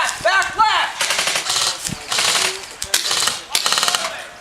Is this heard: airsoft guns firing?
yes